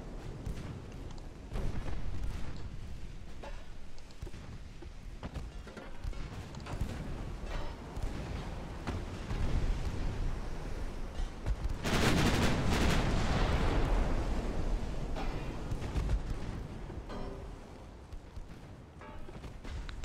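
Naval gunfire from armored cruisers in the warship game Ultimate Admiral: Dreadnoughts, set at the Battle of the Falkland Islands, with rolling, continuous cannon booms and a louder, heavier volley midway, dense and fairly distant in tone, with no talk.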